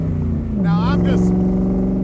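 A 1965 Shelby Cobra Factory Five engine burbles close and steady under a light touch of the accelerator, its low tone rising slightly while someone talks over it.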